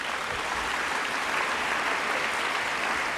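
Audience applause at the Normandie pour la Paix world forum, a dense, sustained wash of many hands clapping at steady loudness throughout, with no voices standing out above it.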